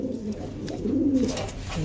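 Racer pigeons coo softly with low, throaty rolling calls, close by, against a faint background hum.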